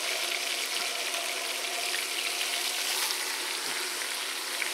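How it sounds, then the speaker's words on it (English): Beef sears in a pan with two tablespoons of canola oil, a loud, dense and continuous sizzle that holds steady from start to finish, close up and with no talking. "But see, I'm getting this seared."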